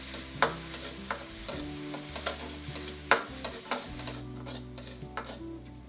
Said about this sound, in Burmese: နောက်ထပ်အိုးထဲမှာဂျီချက်သွဖြူကိုအနှံမွေးလာအထိကြော်ထားပေးလိုက်ပါမယ်